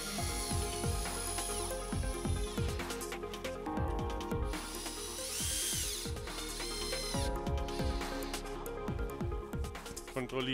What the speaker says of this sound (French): je mets mes vis et visse le crochet de toit.